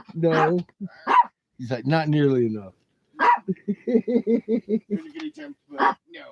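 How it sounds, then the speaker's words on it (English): A small dog yaps in a quick string of short, sharp barks partway through, with people talking before and over it. "Who's that little freaky dog?"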